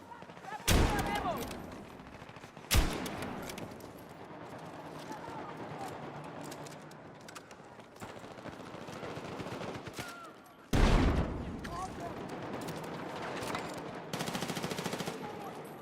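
Mini Scout sniper rifle shots in a shooter game, several sharp loud cracks spaced a few seconds apart, with background game noise and some talking between them.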